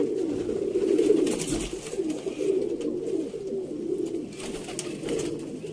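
Sialkoti pigeons of the silver-wing 35 breed coo steadily in a loft, several soft, throaty rolling coos overlapping nearby, with faint outdoor background noise.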